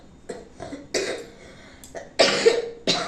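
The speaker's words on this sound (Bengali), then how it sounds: "আরে কাশি" Several harsh coughs close by, arriving in separate bursts with quiet gaps between them, the last few louder and more forceful.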